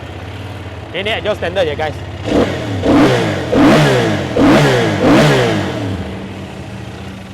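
A QJMotor SRT800 motorcycle engine starts after a short voice remark, then revs in several loud, close throttle blips that rise and fall before settling to idle.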